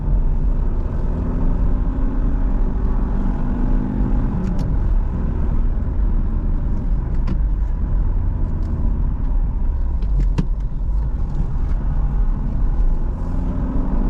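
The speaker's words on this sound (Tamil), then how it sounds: "ஃபோர்த்து கியரில் தெரியுது வண்டி" A manual car travelling in fourth gear gives a steady low engine and road rumble from inside the cabin, with occasional faint clicks and knocks over the continuous drone, no talking.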